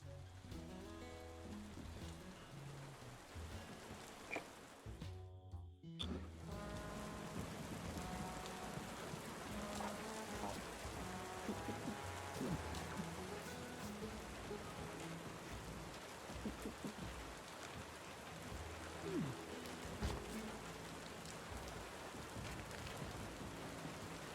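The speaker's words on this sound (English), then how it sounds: "Seems we're in for a rainy night." Night rain falls steadily in the video game Tavern Keeper, a soft constant patter with low rumbling underneath and a brief dropout early on, while quiet musical tones play in the background.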